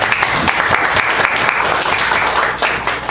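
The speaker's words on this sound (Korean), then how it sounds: "박수 한번." Studio audience applause after a live demonstration of a newly built iPhone app, a dense steady patter of many hands clapping that holds strong through the whole stretch.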